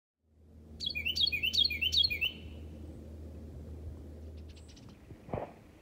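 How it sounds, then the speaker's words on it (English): A flock of about ten to fifteen eastern bluebirds with some goldfinches chatters in winter countryside near Rose Valley Lake, a quick run of bright chirps up front, then softer scattered calls over a low rumbling background. "Got a nice flock of bluebirds here, eastern bluebirds, and some goldfinches. Probably about 10 or 15 bluebirds. You can hear them chattering."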